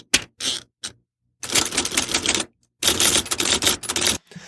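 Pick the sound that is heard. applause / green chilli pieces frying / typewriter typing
typewriter typing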